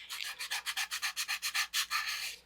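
Sandpaper rubs the tip edge of a plywood part for an Apogee Nike Hercules model rocket in quick back-and-forth strokes, about fourteen even rasps in a row, close and alone.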